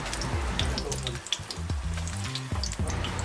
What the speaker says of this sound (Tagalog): saglit lang naman ito mabilis lang itong pagprito na ito